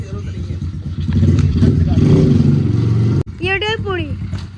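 Engine of a 24-gear dirt bike revving under load as the clutch is released, a loud close rumble with rising pitch, while someone talks over it and briefly whistles near the end.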